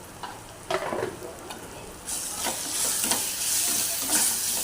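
Prawn masala made with a homemade Koli-style spice mix being stirred in a hot pan, a few spatula scrapes followed by a loud, steady sizzle that swells halfway through and keeps going, close and with no voices.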